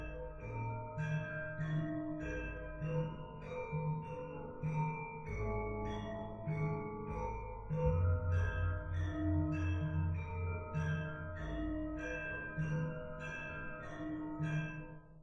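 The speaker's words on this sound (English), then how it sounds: "Gibson borrowed from yet another musical tradition, Javanese gamelan." Layered metallic gongs and bronze keyed percussion play interlocking ringing patterns over deep resonant gong strokes, a steady, shimmering gamelan ensemble.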